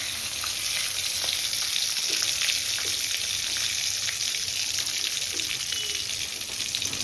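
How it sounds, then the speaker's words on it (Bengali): Whole cumin, bay leaf and green and red chillies fry in hot oil, a loud, steady crackling sizzle with scattered pops and no talking. "এই যে গোটা জিরে যাচ্ছে ফোড়নে।"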